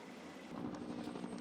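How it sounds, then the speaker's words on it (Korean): A military medical evacuation helicopter lifts off, its engine and rotor making a loud, continuous whooshing roar with a faint rhythmic beating, heard at close range without speech. "장비 확인을 마치고 이륙 준비가 끝나자 의무 후송 헬기가 목표 지점으로 날아오릅니다."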